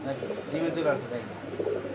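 Pigeons of fancy breeds kept for sale give low, rolling coos up close, blended with a voice talking over them throughout.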